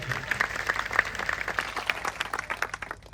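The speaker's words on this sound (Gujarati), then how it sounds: "બધા માટે એકવાર જોરદાર આપણે તાળીઓ પાડી લઈશું" A crowd at an outdoor political rally in Savli, Gujarat claps loudly together, a dense, sustained patter of many hands that fades slightly toward the end.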